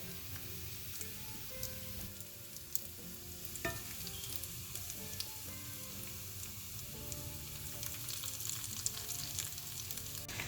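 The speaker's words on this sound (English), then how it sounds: "now I'm done frying my chicken" Chicken sizzles and crackles steadily in a hot pan, a quiet continuous frying hiss with occasional pops and a light stirring knock.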